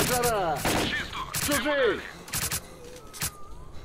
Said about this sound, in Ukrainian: А чого це вони по мені стріляють?